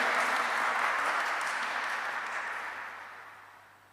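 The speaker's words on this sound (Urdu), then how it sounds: "تو تالیاں بھی ذرا دل کھول کے مارنیاں، زوردار تالیوں سے" Loud applause from a church congregation at a Christmas sermon, a dense wash of clapping that starts strong and slowly fades away over a few seconds, with no voices over it.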